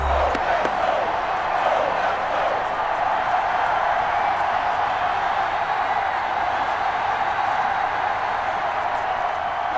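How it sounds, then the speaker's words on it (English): A stadium crowd roars in the Madden 21 football video game ahead of a big third down for the Packers, a dense, loud, unbroken wall of cheering that holds steady throughout. "The crowd getting into it as we come up on a big third down."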